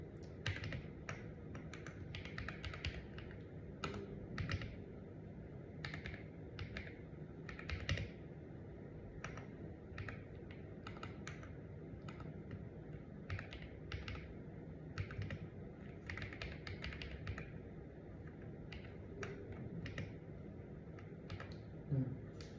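Keystrokes clatter steadily on a computer keyboard in irregular bursts, close and fairly quiet, while a value is edited in a database form; no voices, just typing throughout.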